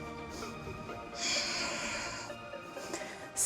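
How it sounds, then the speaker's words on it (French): Deep throat breathing during lower-body moves in a full-body Pilates workout: close, breathy hissing inhales and exhales, one long airy breath in the middle with quieter breaths around it. "je fais toujours ma respiration de fond de gorge, même sur les mouvements bas du corps"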